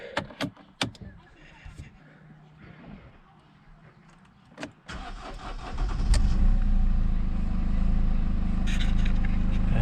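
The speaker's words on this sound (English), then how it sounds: "let's go start the car" A Mercedes car is started after a brake pad wear sensor repair: quiet handling and clicks first, then a sharp crank near the five-second mark and a steady, loud engine idle that fills the rest of the clip.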